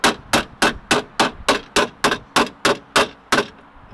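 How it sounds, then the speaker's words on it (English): Crumpled metal on a salvage Audi A5 being hammered back into shape during a rebuild: eleven sharp, evenly spaced metallic blows ring out close and loud, each decaying quickly before the next, with no talking. "I'm going to carry on pushing that up or in by just hammering it slightly"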